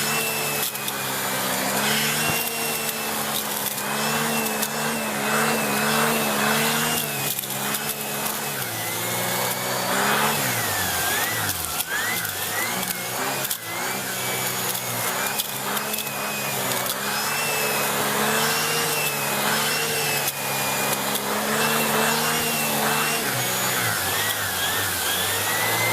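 A Shark Powered Lift Away NV681UKT vacuum cleaner with a turbo brush runs at maximum suction, a loud, steady, close whine with a continuous motor hum that holds for the full stretch, with no speech.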